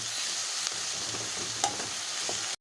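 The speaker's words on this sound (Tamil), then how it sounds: "உப்பு போட்டு வதக்குனா தக்காளி கொஞ்சம் சீக்கிரத்தில் சாஃப்டாகி வரும்" Tomatoes sautéing with salt in a pan for an egg gravy, a steady bright sizzle with a couple of stirring scrapes, close by, ending abruptly.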